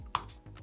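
Keystrokes on a Mac computer keyboard typing a command in Terminal, a sharp louder tap followed by a few softer clicks, close and dry with no voices.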